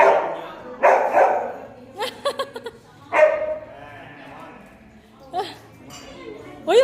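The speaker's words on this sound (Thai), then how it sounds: "โอ้ยตัวนี้เห่าเก่งจัง" A dog barks at a dog cafe, several sharp barks in uneven bursts, close and loud, mixed with children and adults talking nearby.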